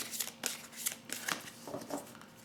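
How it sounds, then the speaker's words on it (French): Tarot cards being shuffled by hand, a series of quick papery riffles and slaps at close range, steady over a couple of seconds with no talking. "Pendant ce temps, je tire les cartes"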